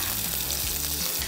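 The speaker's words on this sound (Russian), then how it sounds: "закидываю лук в сковороду" Loud, steady sizzling of onions frying in a hot pan, close up, with occasional soft stirring scrapes.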